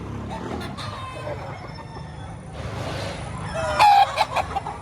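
Chickens and roosters cluck and crow amid the din of a livestock auction market in Padre Garcia, with a steady crowd murmur and a louder burst of fowl calls near the end.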